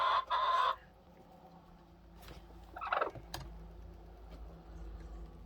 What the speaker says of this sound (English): I love these Brahma hens.